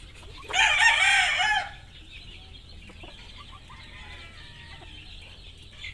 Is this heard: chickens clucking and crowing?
yes